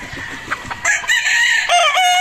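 A gamefowl rooster in a breeding pen crows loudly and close by in one long drawn-out call, following a few softer clucks and rustling noises.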